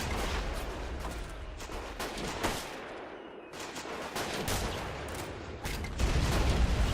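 Massed troops fire at will in a World War I battle game, set in 1914-1918: a steady crackle of overlapping rifle shots and bursts with heavier thuds, a brief lull midway, then the firing swells again, loud and close.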